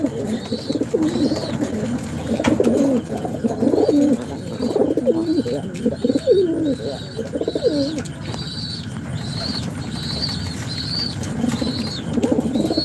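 Pigeons in a loft coo in repeated soft, throaty phrases close by, with rhythmic chirps and occasional wing flutters over a steady low background.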